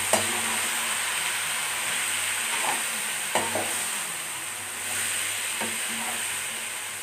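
Mixed vegetables fry in a pan while a spoon stirs them, making a continuous close sizzle broken by a few scraping knocks of the utensil against the pan; no one speaks.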